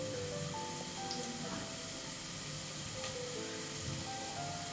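Small tomato pieces dropped into a pan of mutton curry give a steady, soft sizzle and hiss that runs evenly throughout, close and moderate in level, with a faint clink near the end.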